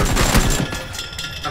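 Rapid, loud video-game gunfire from a shooter match with a Mark 21 sniper rifle, dense overlapping shots crackling close up with no talk.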